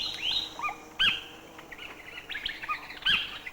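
Collared kingfisher calling in a coastal mangrove or coconut plantation setting, a series of sharp, high chirping notes repeated in short bursts with brief gaps, fairly close over a faint background hiss.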